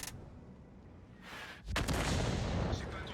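An artillery shot in a tank video game fires with a heavy, loud boom and a sustained rumbling blast that follows a quieter stretch of game noise.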